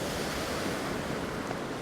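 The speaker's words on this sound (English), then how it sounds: "with all this stormy weather and with that sea that you can see behind us" Stormy sea waves wash onto a beach in a continuous, loud surf roar mixed with wind buffeting, with no voices.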